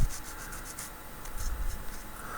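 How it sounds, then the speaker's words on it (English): Quick repeated rubbing strokes of sanding on a small hard resin figure for a 1/16 scale Tiger I tank model, close up and fairly quiet, in short rhythmic bursts. "but a bit of sanding"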